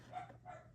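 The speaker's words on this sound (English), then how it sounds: "So Sorry for all the barking." Dog barking indoors at a distance, two short, faint barks in quick succession.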